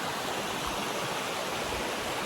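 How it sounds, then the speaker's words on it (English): River stream flowing steadily, a close, dense broadband rush of water with no breaks or voices. "Living right on this river."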